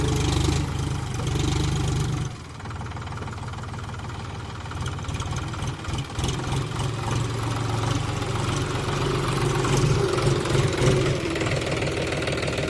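An empty farm tractor's diesel engine runs steadily for several seconds on a field where manure is being loaded, a continuous close, throbbing rumble with a slight knock and no voices over it.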